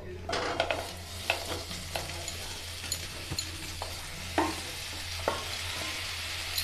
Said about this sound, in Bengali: এবার এগুলোকে আমি কড়াতে দিয়ে সেদ্ধ হতে দেবো